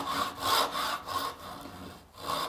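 A hand saw cuts a wooden tenon for a cabinet, rasping in quick, rhythmic strokes up close with a brief pause near the end.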